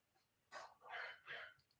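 A dog outside gives a few faint, distant barks, three short yelps in a row.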